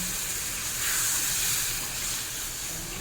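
A coconut milk curry with pointed gourd and shrimp bubbles in a pan, giving a continuous close hiss that swells slightly midway and carries on alone.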